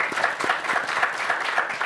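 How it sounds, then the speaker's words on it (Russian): A studio audience at a televised Defender of the Fatherland Day evening show in Gomel claps steadily, a dense, even burst of applause that fills the whole moment. "И вот эти аплодисменты и наши поздравления для вас."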